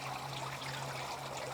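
Water pours into a stock tank garden pond in a steady, continuous trickle with a faint low hum underneath and no voices.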